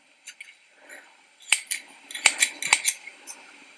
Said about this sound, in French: Vous voyez que les ciseaux glissent sur la rainure.